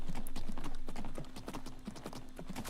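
Horse hooves clip-clop in a steady, brisk rhythm of close, distinct thuds inside a video game, with a faint constant tone running underneath and no talking.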